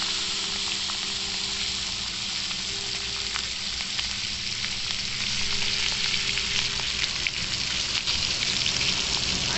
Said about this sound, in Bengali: মাছ ভাজা আর মাছ ভাজা।